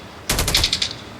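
Rapid burst of automatic gunfire in a shooting video game: a quick string of about six or seven loud shots in just over half a second, cutting off into quiet.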